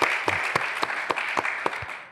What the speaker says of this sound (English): you guys can give yourselves a round of applause.